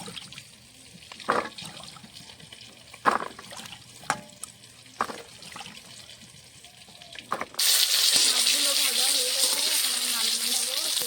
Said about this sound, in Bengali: আমার আলু আর ওলকপিটা কাটা হয়ে গেছে এখন ধুয়ে নিচ্ছি দুবার ধুয়ে নেব দু তিনবার